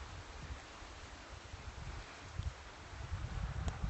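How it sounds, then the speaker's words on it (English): Wind blows across a cemetery in winter, a steady broadband rush with low microphone buffeting that grows gustier toward the end and carries no voices. "It's quite windy too."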